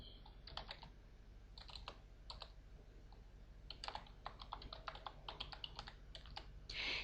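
Commands are typed on a computer keyboard for a text-based MUD game in quick, uneven bursts of close, crisp keystrokes separated by short pauses. No one talks.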